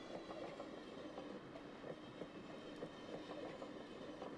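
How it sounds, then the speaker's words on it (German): A train ride in the video game Yo-kai Watch, with a soft, steady rumble of rail cars and faint rhythmic clickety-clack of wheels, heard quietly without talk. "Gut zu wissen, dass man hier Zug fahren kann."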